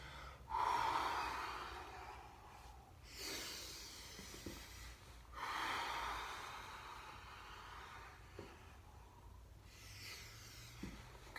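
Deliberate breathing during Systema sit-ups, with long audible inhales and exhales in slow waves, close to the listener, separated by quiet pauses with faint soft knocks.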